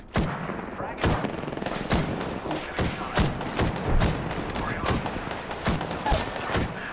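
Bursts of gunfire in an Apex Legends match crack out in rapid, uneven volleys, sharp single shots mixed with automatic strings, loud and close across the whole stretch.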